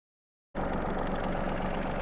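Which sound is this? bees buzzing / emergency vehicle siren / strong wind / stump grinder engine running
stump grinder engine running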